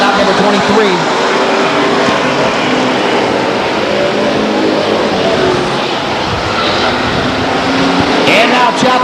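Street stock race cars roar around Stockton 99 Speedway during a 1999 evening race, a dense, steady wash of engine noise at a distance, with a public-address announcer talking over it throughout.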